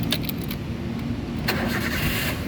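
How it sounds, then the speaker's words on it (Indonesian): A 2009 Toyota Avanza 1.3 G with a manual gearbox, about 130,000 km on it, cranks briefly and then catches, settling into a steady close idle. Keys jingle at the start and no one speaks. "sekarang kita coba nyalakan mobil"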